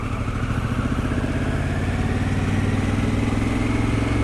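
Harley-Davidson Pan America motorcycle engine running steadily while riding around town at moderate throttle, a continuous low rumble with a pulsing beat, close and loud throughout.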